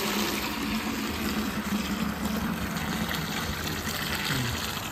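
Water gushing steadily into a container, a loud, continuous rushing pour close by with no pauses.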